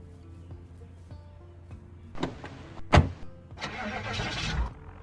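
A car engine starting in the zombie survival game Project Zomboid: a faint whir and click, then a sharp crank and turnover settling into a rough idle, close and fairly loud.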